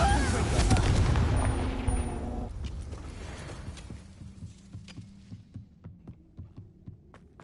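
In the video game Hogwarts Legacy, a Bombarda explosion spell goes off as a loud, booming blast that fades into a string of rhythmic, decaying thuds.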